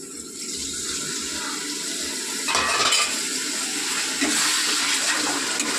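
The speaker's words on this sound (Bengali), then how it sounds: "এই মশলার থালাটা দিয়ে একটু জল দেবো যাতে পুড়ে না যায়" Water splashes from a plate into spice masala frying in a pan, a loud continuous hiss and bubbling sizzle that surges a few times as the liquid hits the hot oil.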